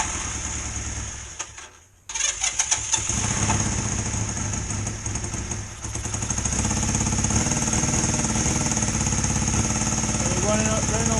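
A Honda XR125 twin motorcycle engine misfires while running on just one cylinder, a close, loud, uneven chugging that cuts out briefly before catching again and settling into a rough, steady idle.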